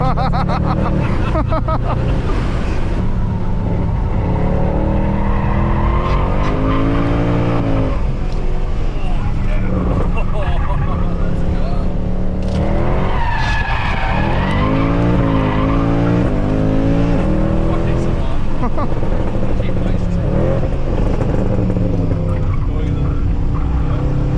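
A 550 hp Mercedes C63 AMG roars loudly with a deep, sustained engine note rising and falling as its tires slide and squeal, with excited voices talking over it throughout.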